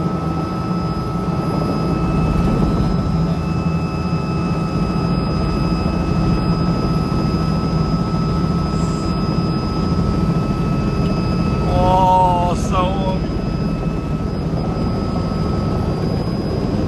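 A helicopter flies in to land, its rotor and turbine making a loud, constant whine and thrum close by, with a brief rising warble near the end.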